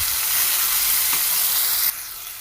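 Tomato and ginger paste frying in a pan, a loud continuous sizzle and hiss up close that drops abruptly to a softer sizzle near the end.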